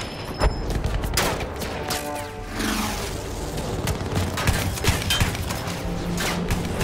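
Sustained First World War battlefield gunfire in Battlefield 1, dense rapid shots and booming blasts layered over a constant rumble, loud and close throughout with no talking.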